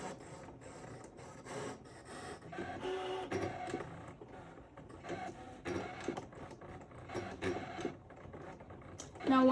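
A Brother ScanNCut cutting machine whirs and clicks mechanically as it cuts, its motor steady at close range beneath faint background sounds.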